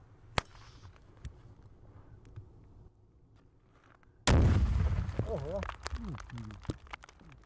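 A sudden loud explosion booms from a military training blast near a trench after a quiet stretch, followed by rumbling debris and excited voices shouting nearby.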